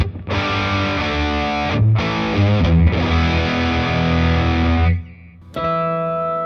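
An electric guitar played through a Nirvana chorus pedal and a Boss digital delay into an amp's gain channel gives thick, distorted sustained chords with a shimmering chorus, a brief break, then a final ringing chord.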